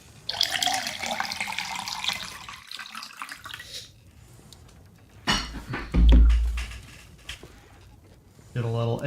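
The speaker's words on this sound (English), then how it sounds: "Get a little ASMR on our water pour." Water pours steadily in the medieval sandbox game Pax Dei, a bright splashing stream that runs, pauses, and resumes in short bursts, with someone talking over parts of it.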